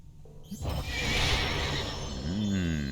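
In the Lord of the Rings Online video game, a horse lets out a loud, drawn-out neigh and whinny that rises out of quiet and ends in a wavering call.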